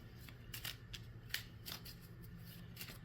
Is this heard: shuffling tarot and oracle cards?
yes